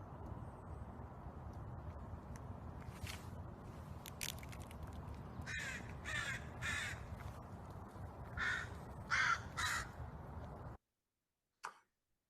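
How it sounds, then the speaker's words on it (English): American crows caw as they fly in toward scattered peanuts outdoors, several harsh calls in short groups over steady low background noise, moderately distant, followed by a brief silence. "whenever I'd throw peanuts out to them, they would always call as they flew in"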